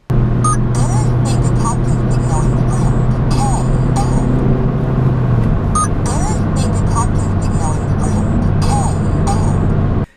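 A Batman RD radar detector chatters a repeated spoken K-band false alert, its synthetic voice looping again and again over the steady hum of a car on the road.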